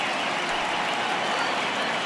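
Steady crowd roar fills a ballpark in a Yankees at Mets baseball video game as fans rise for a full count, a continuous broad wash of cheering and clapping with no break.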